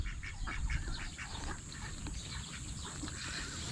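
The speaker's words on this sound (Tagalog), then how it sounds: "Papakain po muna tayo ng ating mga alagang itik." Pet ducks gathered to be fed make a busy chorus of overlapping quacks and chatter, fairly close and steady but not loud, over soft background noise with no talk.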